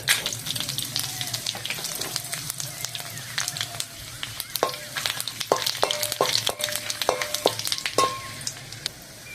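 Three bay leaves, dry red chillies and panch phoron sizzle as they hit hot mustard oil in a kadai, a close, steady crackle broken by sharp clicks and scrapes of stirring.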